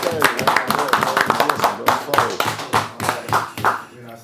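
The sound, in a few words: clapping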